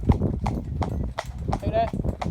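A harnessed horse in a steady jig-jog trot, hooves clip-clopping in a regular, close rhythm while someone speaks over them.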